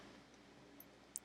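A computer mouse clicks while working in QuickBooks accounting software, a couple of faint, sharp ticks near the end over a quiet background hum.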